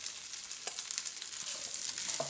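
Ground wheat roasting in ghee over a low flame for kheer, a steady soft sizzle with faint stirring scrapes, close and even throughout with no talking.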